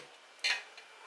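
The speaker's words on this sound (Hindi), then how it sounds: "बस इसको मैं अभी ढक के पकने दूँगी।" A metal lid set onto a pot of chicken and cauliflower curry cooking on a home stove gives one brief clank and rattle, fairly close, then quiet kitchen background.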